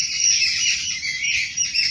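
Continuous chorus of birds calling near a jungle path, a dense overlapping chatter of chirps and trills at steady moderate loudness with faint insect-like buzz beneath.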